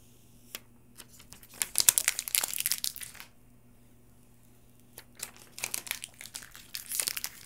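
Plastic packaging of a smartphone crinkling and tearing during unboxing, two bursts of close, bright rustling separated by a quiet pause, with no talk.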